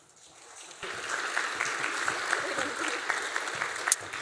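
Audience clapping at a high school spring band concert swells in after a quiet start, a moderate crowd of hands patting steadily with a few sharper claps near the end.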